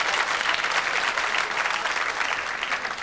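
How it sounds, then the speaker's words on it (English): A large theatre audience at a live stand-up comedy show gives sustained, dense applause, steady and loud throughout with no talk over it. "Thank you for your applause."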